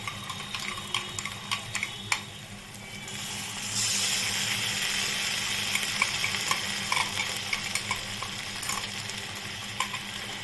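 A mustard, poppy seed and yogurt paste goes into a hot frying pan with a little water, and the sizzle swells into a steady hiss broken by a few light clinks of stirring.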